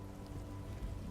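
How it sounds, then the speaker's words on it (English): Steady rain falling in the Marvel Midnight Suns video game, a continuous soft hiss of drops on surfaces with no breaks, fairly faint and alone. "Look, it even rains in a pocket dimension."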